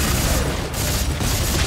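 Dense, continuous gunfire and booms from co-op play in the sci-fi horror video game Dead Space 3, as players shoot at creatures. The roar is loud and sustained throughout, with no clear gaps between shots.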